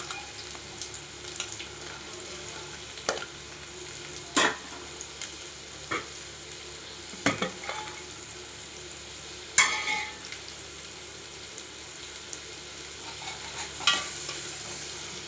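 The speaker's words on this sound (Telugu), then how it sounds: "ముందు ఆయిల్ హీట్ అయినాక ఉల్లిపాయలు పచ్చిమిరకాయలు వేసుకోవాలి." Onions and green chillies frying in hot oil for a prawn curry, a steady sizzle with occasional sharper crackles and spatters, close and continuous with no talking.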